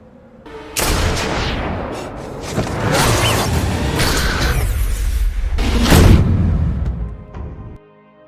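Sniper gunfire rings out in a movie battle between two professional snipers: loud, booming shots and sharp bursts with whooshing sweeps, sustained over several seconds before cutting out, with no talking.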